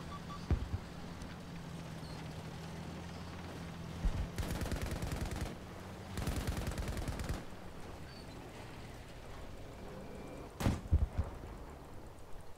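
Heavy cannon shots in Battlefield V boom out in a few loud bursts, two sustained rumbling volleys in the middle and a sharp blast near the end, over a steady low engine-like drone.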